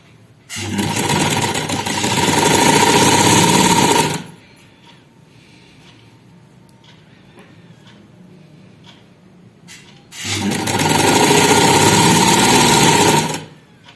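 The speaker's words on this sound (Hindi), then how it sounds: "इसको मिलाते हुए सिलाई लगा लेंगे" A sewing machine stitches shirt fabric joined with buckram for a collar band, running in two loud close bursts of steady whirring separated by a quiet pause of several seconds.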